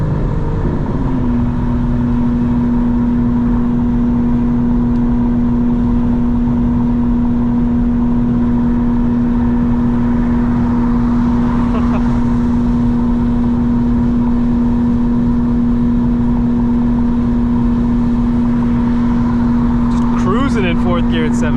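A 900-horsepower 2025 BMW M4 Competition heard from inside while driving at sunset, a loud steady engine drone with a sustained tonal hum and road roar, rising slightly near the end.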